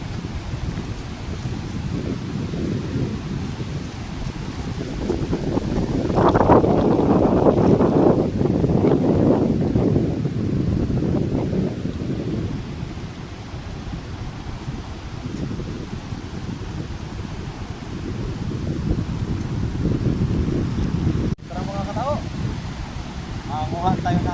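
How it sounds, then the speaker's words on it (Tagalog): Strong sea waves surge and break near the shore, a broad rumbling wash that swells loudest midway and keeps rolling with wind noise throughout, with faint voices at moments. "Malakas nga mga katao yung alon sa dagat."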